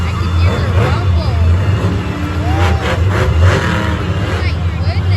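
Loud engines of monster trucks lined up at a monster truck show, a heavy low rumble with revving bursts, close and continuous beneath crowd chatter and voices.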